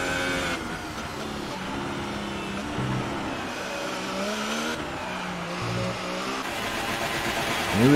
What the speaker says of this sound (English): That engine's doing that funny noise